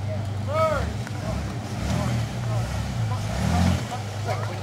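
Off-road vehicle on a competition course engine revving and labouring as it climbs, a low rumbling drone swelling and easing, with a person talking over it.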